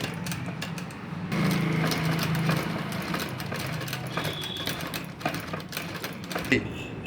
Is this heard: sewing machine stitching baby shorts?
yes